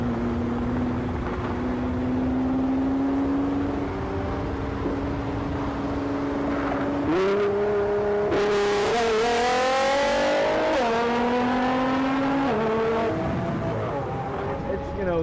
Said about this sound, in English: it makes a lot of turbo noise, and when you get on it, it screams